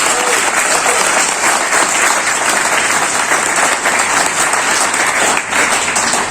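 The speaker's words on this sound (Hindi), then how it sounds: "तो हमारी तालियां कैसी होनी चाहिए?" A large audience at a health products seminar in India claps loudly and continuously, the thick wash of applause holding steady throughout with a brief dip near the end.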